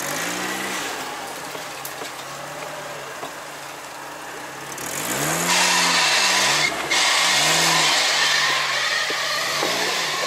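UAZ Niva off-road car, fitted with a Niva engine, driving on thick ice among breaking ice floes: a steady engine drone swells into loud repeated revving surges and strained pulls over the second half.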